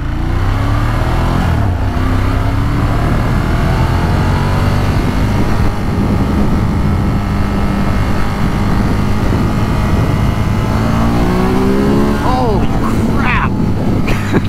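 A Ducati Monster 1200 motorcycle engine pulls hard under a rider's voice, its loud, steady roar rising in pitch through several revving climbs and gear changes, close and continuous throughout.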